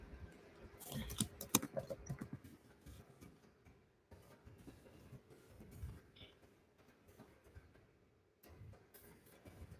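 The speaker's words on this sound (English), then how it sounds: "I'm just typing it just in case" Typing on a computer keyboard, with irregular bursts of close key clicks separated by short pauses, fairly faint and with no talk over it.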